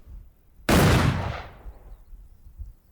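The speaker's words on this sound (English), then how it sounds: "this trigger is now going to trigger not just the door, but the explosion of this barrel." A barrel blows up in a video game test level, hitting with one sudden loud blast. A rumbling tail follows and fades over about a second into quiet background.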